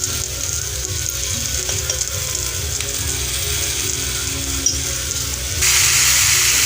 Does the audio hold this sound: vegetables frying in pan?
yes